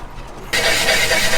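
A quiet rumble suddenly jumps into a loud, rough engine noise as a farm vehicle's motor starts up and keeps running, close and harsh, with a strange noise.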